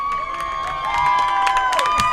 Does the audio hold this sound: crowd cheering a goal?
yes